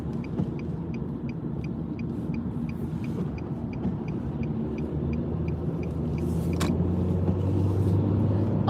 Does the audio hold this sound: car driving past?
yes